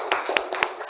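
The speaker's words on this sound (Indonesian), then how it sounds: "Ayo tepuk tangannya." Students in a classroom clap their hands in a few sharp, rhythmic claps, close and clear, over a short burst.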